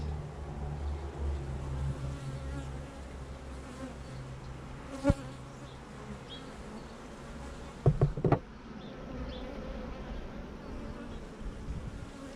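Worker bees buzzing at a hive as they bring in nectar, a dense continuous hum close by with a low steady drone underneath and a couple of brief knocks partway through.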